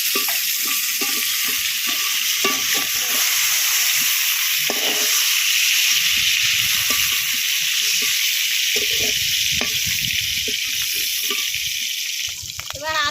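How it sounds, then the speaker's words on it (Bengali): Prawns sizzle steadily in hot oil in a pan, a constant close hiss broken by frequent stirring scrapes and clacks. "চিংড়ি মাছগুলো এক মিনিট ভেজে নিচ্ছি"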